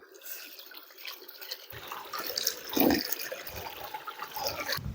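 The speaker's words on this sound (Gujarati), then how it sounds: "કોથરામાંથી ફિલ્ટર થઈને પાણી આવે આમ કરીને પીવાનું" Water trickles and drips faintly as it filters through a cloth for drinking, a soft, uneven splashing heard on its own without speech.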